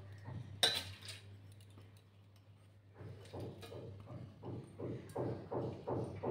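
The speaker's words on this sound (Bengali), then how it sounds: "এবার আমি একটা মিক্সিং জারের মধ্যে সমস্ত মসুর ডালটাকে ঢেলে দেবো।" Washed and drained red lentils are tipped into a mixer jar in a home kitchen, giving one sharp clatter followed by a series of soft, rhythmic rattling thumps close by.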